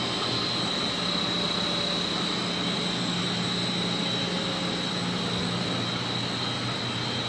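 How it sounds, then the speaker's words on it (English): Computerized variable speed pumps running in a boiler room, a loud, steady mechanical hum with constant whining tones and no talking. "All variable speed pumps,"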